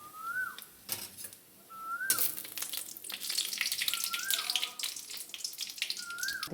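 Cumin seeds, a dried chilli and two bay leaves sizzle steadily in plenty of hot oil, a continuous close frying hiss with crackles, while a thin repeating whistle-like tone rises at intervals in the background.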